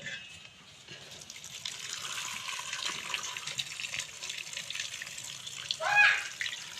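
Water runs from a broken tap during washing, a steady, moderate gush with a louder splash near the end, and a voice speaks briefly underneath.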